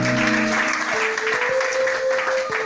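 A church congregation applauds a testimony, steady dense clapping throughout, with sustained keyboard or organ tones underneath and faint voices mixed in.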